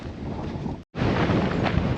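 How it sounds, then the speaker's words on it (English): Strong wind buffets the microphone on a sandy desert trail near Kanab, Utah, a loud continuous rumbling roar broken by a momentary dropout, then resuming just as loud. "a little windy, very windy"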